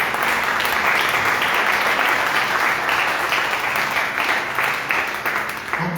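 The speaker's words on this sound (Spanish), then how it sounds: "Den un fuerte aplauso a nuestro Señor." A church congregation gives a strong round of applause to the Lord during a Spanish-language sermon: loud, thick clapping that stays steady throughout, with no talking.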